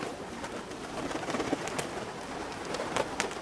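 Pigeons flutter down in quick bursts of wing flaps, close by, while soft cooing murmurs underneath, many birds landing fast.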